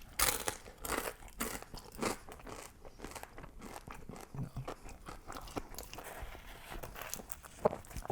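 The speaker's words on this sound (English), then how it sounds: "I love a crunchy thin crust." Crunching bites into a thin, crispy pizza crust with a puffy edge, topped with bacon, chicken and ranch, close and repeated in uneven bursts of crackly chewing.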